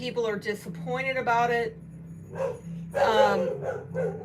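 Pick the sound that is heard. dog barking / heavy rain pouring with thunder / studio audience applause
dog barking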